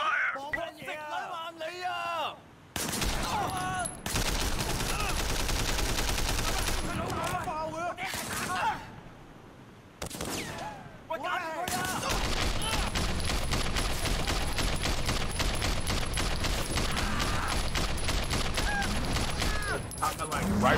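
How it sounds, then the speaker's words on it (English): Heavy, sustained gunfire in the Sleeping Dogs: Definitive Edition game, dense bursts of rapid shots filling most of the stretch with two brief lulls, loud and close, with voices talking underneath. "We're taking heavy fire."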